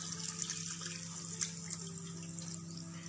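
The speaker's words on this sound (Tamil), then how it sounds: "இப்போ இது வேகிற அளவுக்கு கொஞ்சம் தண்ணி சேர்த்து வேக வச்சுக்கலாம்." Water pours into a pan of Chettinad quail gravy during cooking, a soft continuous trickle and splash heard fairly close against a steady low hum.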